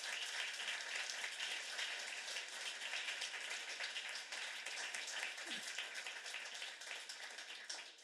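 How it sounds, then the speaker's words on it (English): An audience at a museum panel event claps for the panelists in a steady, even wash of applause that sounds fairly distant and soft and lasts the whole stretch. "A big round of applause for our amazing panelists."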